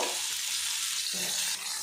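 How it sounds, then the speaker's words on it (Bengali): Boiled young jackfruit dropped into hot white oil in a wok, a loud continuous frying hiss with a brief burst of sizzle as the pieces hit, close and unbroken. "এবারে এখানে সিদ্ধ করা এঁচড়গুলো আমি তেলের মধ্যে দিয়ে দেব।"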